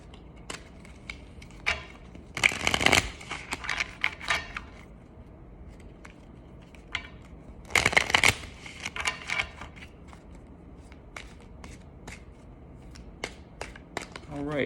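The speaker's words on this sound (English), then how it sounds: "Let's give the angels one more shuffle." Tarot cards being shuffled close up, two loud riffling bursts separated by scattered light taps and card handling, quiet in between.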